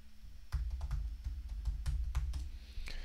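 Typing on a computer keyboard while setting up a Raspberry Pi: a quick run of soft, close key taps in short bursts with small pauses, alone in a quiet room.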